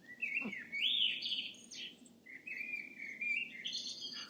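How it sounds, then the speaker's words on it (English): Several birds chirp and whistle close together, bright rising and falling phrases layered over one another, with no talking. "all the birds are starting to sing"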